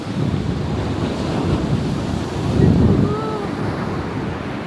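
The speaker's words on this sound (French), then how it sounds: "On se retrouve sur la plage, les amis." Ocean waves wash onto a beach in Bali, a steady broad surf roar that swells louder midway, with wind buffeting the microphone throughout.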